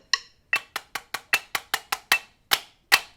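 A crisp drum rudiment of sharp, evenly spaced strokes, with doubled flam hits near the end, played alone and fairly close.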